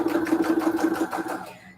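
A sewing machine stitches small fabric pieces together with a fast, even whirring run of needle strokes close up, then slows and stops near the end.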